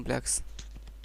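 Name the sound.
typing code on a computer keyboard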